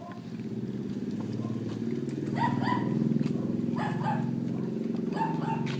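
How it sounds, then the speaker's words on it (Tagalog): A dog barks several times in short yips at moderate distance, partly over a droning motorcycle engine and a low murmur of voices outdoors by a house. "May aso ah."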